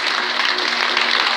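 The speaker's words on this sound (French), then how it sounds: "j'aimerais qu'on les applaudisse très très fort." An audience claps steadily and enthusiastically, a dense wash of applause that holds at an even level for the whole moment.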